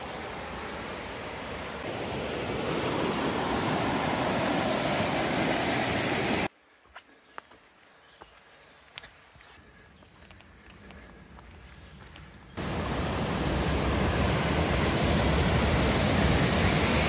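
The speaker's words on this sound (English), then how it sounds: "Here's the top of the waterfall." A waterfall along the Mountains to Sea Trail rushes with a loud, steady roar from the top of the falls, which drops to a much quieter wash for several seconds before surging back at full strength.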